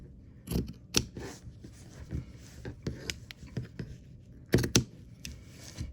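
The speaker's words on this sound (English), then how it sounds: "I have a pair of quite sharp scissors, and I like to cut the different tiles out first" Sharp scissors snip through paper pattern tiles in a series of quiet, irregular cuts, close up, with soft rustling between the sharper snips.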